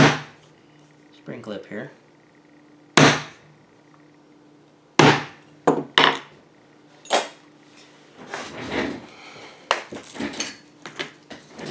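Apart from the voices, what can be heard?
punching holes in leather for a holster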